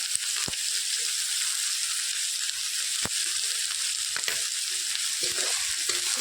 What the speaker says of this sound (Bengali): এটা ভাজা হতে থাক একটু এর মধ্যে লবণ ছিটিয়ে দিব